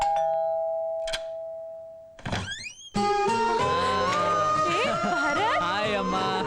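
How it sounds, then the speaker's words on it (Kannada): A doorbell sounds with a sustained electronic tone and a knock or thunk, then a ding-dong chime, followed by indoor movement and people talking over a musical film soundtrack. "ಕಾಲಿಂಗ್ ಬೆಲ್ಲು ಕೇಳಿಸ್ತಾ ಇಲ್ವಾ?"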